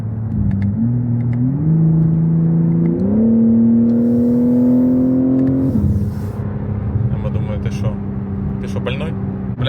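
A BMW M3 Touring engine revs up through rising steps, holding a loud strained drone before it drops back to a lower steady cruise, with faint cabin noises afterward.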